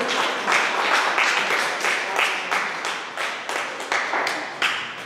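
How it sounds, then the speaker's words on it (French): A church congregation applauds loudly and steadily, a dense wash of many hands clapping that swells in rhythmic waves throughout. "J'aimerais qu'on acclame Jésus très fort"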